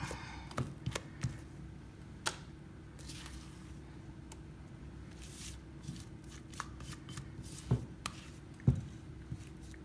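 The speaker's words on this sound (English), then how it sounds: "I'm now going to use a spatula, okay, to make sure I can get out all of that mixture" A spatula scrapes Victoria sponge cake batter from the sides of a mixing bowl in repeated soft, rasping strokes with a few duller knocks, close and fairly quiet.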